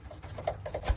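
Racing pigeon hen giving a brief soft coo, close by, with faint patter in the background.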